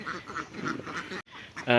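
Ducks on a duck farm quack in quick, nasal bursts nearby, several calls overlapping briefly in a short stretch.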